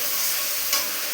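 Masala spice paste fries and sizzles in a pan in a home kitchen, a steady close hiss broken by one brief scrape of stirring.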